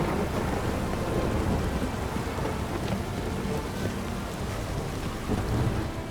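Thunderstorm in The Witcher 3 video game: steady, dense rain with low rumbling thunder rolling through, broadband and continuous for several seconds with no voices.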